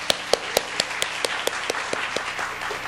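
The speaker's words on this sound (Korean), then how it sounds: "우리 큰" A small gathering at a church mothers' prayer meeting claps to welcome a speaker to the podium, a sparse, rhythmic run of individual claps at a steady pace, close and fairly light, without talk.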